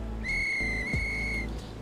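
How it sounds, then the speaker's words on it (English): Single sustained train whistle in a Roblox train game, a steady clear tone held for just over a second, loud and close above a low rumbling background. "This guy's still going with the whistle sounds."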